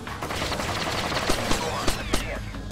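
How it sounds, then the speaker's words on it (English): Gunfight in the stealth shooter Splinter Cell Chaos Theory, played co-op: a dense, steady wash of game combat noise with several sharp, loud gunshot bursts spaced irregularly through it, no talk. "Such a fucking gunfight."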